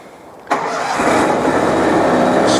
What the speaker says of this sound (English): We're going to go ahead and start the first engine again.